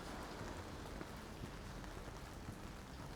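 Rain falling during a walk outdoors, a steady, even patter of drops on surfaces that stays constant and fairly faint, with no voices.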